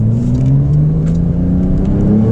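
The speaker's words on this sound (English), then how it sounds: "That was a second gear acceleration." Inside a 2021 Porsche 992 Turbo accelerating hard in second gear, the engine drones loud and close while its pitch climbs steadily, with no voices.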